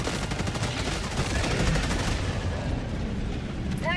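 A machine gun fires in a video game as a dense, rapid stream of loud, close shots that lasts nearly the whole few seconds before tapering, with no voices over it.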